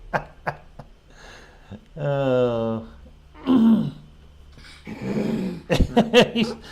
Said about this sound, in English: He's on my lap and he's growling at me.